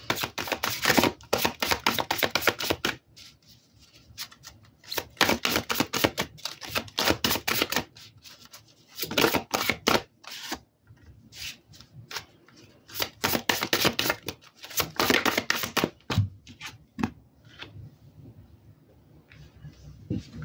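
Oracle cards are shuffled and drawn by hand in bursts of rapid riffling clicks separated by short pauses, close and crisp throughout.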